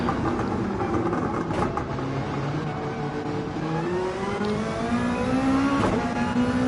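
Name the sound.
race cars driving through a chicane in an endurance race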